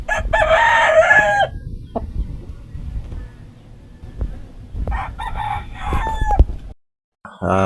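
Backyard chickens about five months old, a rooster crowing loudly at the start and again later, with scattered clucks and brief hen calls in between, fairly close, with no talk over them.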